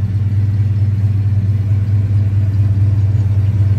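A 1978 Ford F250 pickup, originally a 400 two-barrel, now fitted with a 460 four-barrel V8, runs steadily with a deep, loud low rumble and a smooth, even idle throughout, with no voices.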